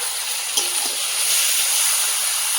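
Meat hits hot oil and fried spices on a new wood-fired clay stove, a loud continuous bright hiss and sizzle, close up, with a small clatter at the start.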